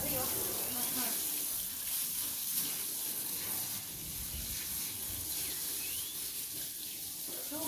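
Tap water runs steadily and loudly in a sink while a pigeon is being washed, a continuous splashing hiss with people talking faintly underneath.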